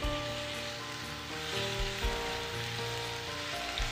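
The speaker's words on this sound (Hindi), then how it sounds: "4 tablespoons हमने ऑयल डाल लिया और इसके अंदर अब हम चिकन डाल लेंगे। चिकन हम फ्राई कर लेंगे।" Small chicken pieces frying in about four tablespoons of oil in a pan, giving a steady, loud, continuous sizzle and crackle with no voices over it.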